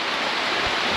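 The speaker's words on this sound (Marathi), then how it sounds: "पाऊस तर भयंकर चालू आहे" Heavy monsoon rain on the Kothaligad trek roars as a dense, continuous wash of noise, loud and close, with no voices.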